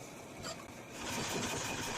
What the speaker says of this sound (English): The engine finally fires.